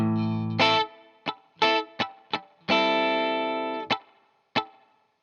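Guitar strumming the rhythm pattern of a disco song: a sustained opening chord, quick sharp strums, another long ringing chord, then muted scratch strums, played alone with no talking.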